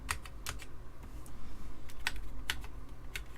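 Keys clatter on an Amiga 500 computer keyboard during a test, with irregular bursts of clicky presses close by and a steady background hum.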